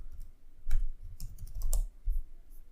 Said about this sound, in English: let's type some text